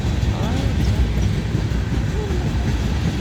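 A CSX manifest freight train rolls past in Folkston, Georgia, a steady, loud rumble of rail cars with clickety-clack wheel noise filling the whole stretch without pause.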